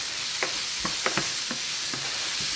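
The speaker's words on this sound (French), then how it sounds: "Je fais un petit peu revenir avec mes oignons, j'emballe tout ça ensemble." Onions frying in a pan with bay leaf for rougail saucisse, a steady close sizzle broken by several sharp scraping knocks of a spoon stirring and tossing them.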